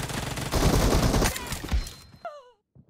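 Rapid gunfire in PUBG Mobile crackles loud and close for about two seconds before cutting off, followed by a short pained groan-like voice sound and quiet.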